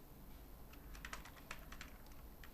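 Quiet, close typing on a computer keyboard as C# code is entered, a short run of irregular key clicks with no talk.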